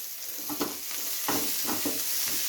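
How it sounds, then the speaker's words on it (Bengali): Onions frying with green chillies and ginger slices, stirred in a pan: a steady sizzle with several scraping stir strokes at a close, even pace, no voices. "আবার একবার পেঁয়াজের সাথে একটু নেড়ে চেড়ে নেব।"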